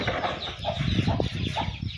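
Hens and chicks cluck softly in a backyard coop, a steady mix of short clucks and thin peeping calls close by, fairly quiet and without talk.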